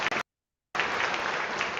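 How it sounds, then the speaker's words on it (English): An audience at a Mandela Day celebration claps in a steady, even round of applause, broken by a short silent gap near the start. "So welcome, Reverend Jean-Pierre Kazima, with a round of applause."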